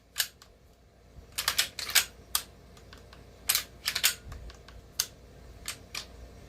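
A Black Aces FD12 shotgun being handled: a quick series of sharp, close mechanical clicks and clacks from the safety and action, irregular and crisp against a faint background hiss, with no talking.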